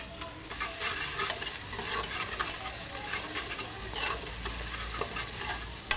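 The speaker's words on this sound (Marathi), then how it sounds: "अद्रक लसूण पेस्ट टाकून परतणार आहे।" Chopped onion with ginger garlic paste frying in hot oil for a village-style chicken curry, a continuous close sizzle broken by repeated scraping stirs of the spoon against the pan.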